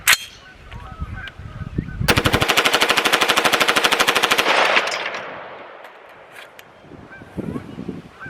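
A KAK Industry rifle empties a full magazine in one rapid, even burst of about two seconds, the shots packed into a loud, steady rattle that stops abruptly. Quieter handling noise comes before and after.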